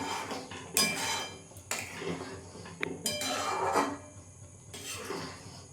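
Fried paneer stirred into a simmering curry in a metal pot, a spoon clanking and scraping loudly against the pot in a few separate bursts, with no talk.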